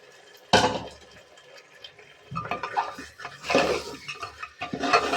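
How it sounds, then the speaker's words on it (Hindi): Washed mutton pieces dropped into a cooking pot of fried masala at home, with a loud clatter and scrape of pot and utensil, then repeated stirring and scraping bursts, close and without talk. "अभी मीट डाल दूँगी मैं इसमें"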